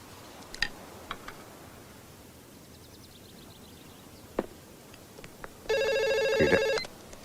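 A telephone rings in a quiet indoor room, one short burst of electronic trilling near the end after scattered soft ticks and knocks.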